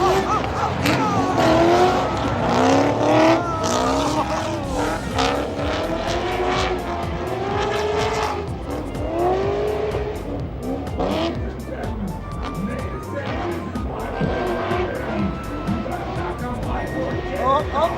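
Race cars, including a Corvette and a Plymouth Satellite, roar around a track, with engines rising and falling in pitch and occasional tyre squeal. Someone talks excitedly over the noise throughout.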